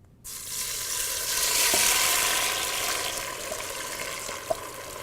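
Tomatoes dropped into hot oil in a pan burst into a loud, steady sizzle that swells and then settles, with a couple of small clicks from the pan, no voices.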